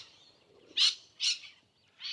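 Wild parrots call from flowering plants beside a walking path in Innisfail, Australia: three loud, harsh squawks spaced about half a second apart over a quiet outdoor background, with no talk.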